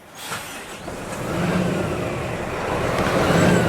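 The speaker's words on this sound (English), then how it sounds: "let's do a start up here on the P450, 6-cylinder engine" A Scania P 450 truck's six-cylinder engine turns over and catches, then settles into a loud, steady, rumbling idle close by.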